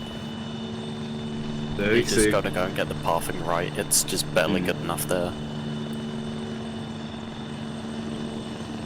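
A helicopter in the video game ArmA drones with a steady, even rotor and engine hum throughout, while someone talks over it for several seconds.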